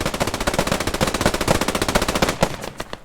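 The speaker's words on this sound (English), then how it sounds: "MG42 in the forest, taking out Jackal from the tank" Rapid MG42 machine-gun bursts rattle through a World War II-era forest battle in a video game, a dense, loud, continuous chatter of shots over about three seconds that thins toward the end.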